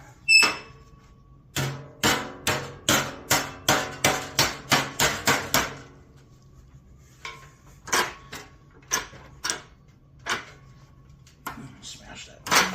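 A hammer strikes sheet metal in a quick run of about a dozen loud, ringing blows, then a few more scattered hits after a pause, close by in a workshop.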